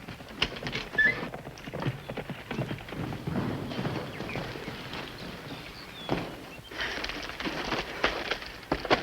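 Hoofbeats clip-clop steadily, growing a little closer, with a few birds chirping in the background and faint rustling.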